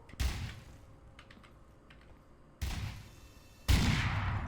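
Turret gunfire in Garry's Mod, two sudden loud bursts of dense shooting, the second stronger, after a quiet stretch with faint clicks.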